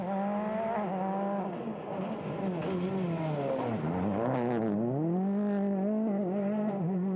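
A Ford Fiesta Super 2000 rally car roars close by on a stage of the 2015 Circuit of Ireland rally, its pitch dropping as the driver shifts and then climbing again in hard revving acceleration.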